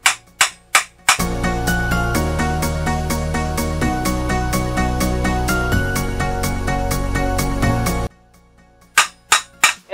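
Metal hammered cold to shape a shield boss: a few sharp, loud ringing strikes open, music fills the middle, then a quicker run of close blows follows.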